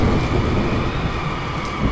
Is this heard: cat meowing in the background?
no